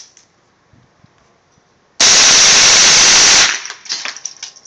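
An M&P 15-22 rifle fitted with a Slide Fire stock bump-firing .22lr rounds, a loud close rapid burst of about a second and a half, followed by fading echo and rattling.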